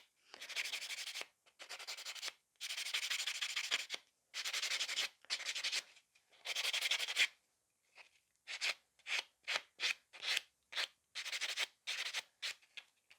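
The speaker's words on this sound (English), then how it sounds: "with the white buffer, things become much, much prettier because we are filing the entire surface of the nail" A white buffer files across the whole surface of sculpted fiber gel nail extensions, giving close, soft, breathy rasping in long back-and-forth strokes that break into quicker, shorter rubs toward the end.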